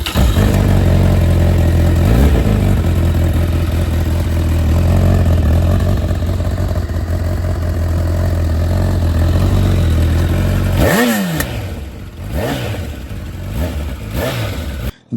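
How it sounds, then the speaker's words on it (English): A Honda CB1000 Hornet motorcycle with a welded aftermarket exhaust fires up and idles loudly with a deep, steady thrum, then toward the end gets several sharp throttle blips that rise and fall in quick succession. "let's start the engine and listen to the sound"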